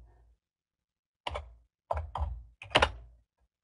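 A computer keyboard is struck in a few quick, close, sharp clacks, four keystrokes in two small clusters separated by silence.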